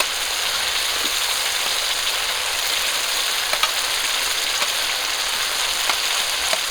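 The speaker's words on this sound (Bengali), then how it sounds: "এখন আমি ভেজে রাখা আলু আর কচিগুলো দিয়ে দেবো" Fried potatoes and taro tipped into spice paste simmering in hot oil, giving a steady, dense sizzle that hisses evenly throughout with a few faint crackles and no voices.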